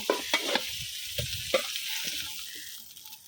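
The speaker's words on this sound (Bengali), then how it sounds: "এখন হলো গিয়ে যে আমি টমেটোগুলো একটু হালকা বাজাতে নিব এই তেলের করার মধ্যে টমেটোগুলো এই জন্য হালকা একটু বাজা দিয়ে নিব" Tomatoes go into hot oil to fry lightly, giving a soft continuous sizzle with a few sharp utensil clicks and scrapes of stirring near the start, close by and without talk.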